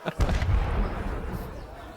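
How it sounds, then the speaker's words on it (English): Fireworks exploding in a tabletop role-playing game scene, a single loud boom followed by a rumbling, crackling tail that lasts about two seconds. "as the fireworks lighten everyone's spirits and severely burn one or two people"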